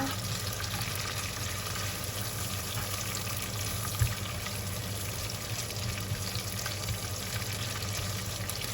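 Krachai (fingerroot) stir-frying in a pan for a spicy mackerel dish, a steady, continuous sizzle and crackle at moderate level with one brief clack partway through.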